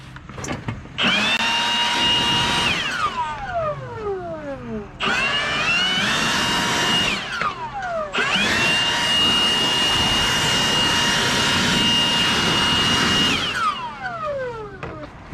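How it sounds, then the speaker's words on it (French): A leaf blower run in short blasts, three long bursts of loud, whining airflow that each cut off with a falling tone as the motor winds down, close by and alone with no talk. "un petit coup de souffleur"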